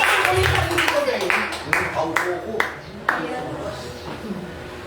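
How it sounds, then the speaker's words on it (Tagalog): A church congregation claps during a praise and worship service, with several sharp scattered claps and bursts ringing out in a reverberant hall while a voice talks over them. "Sige, palakpakan natin ang ating Panginoon."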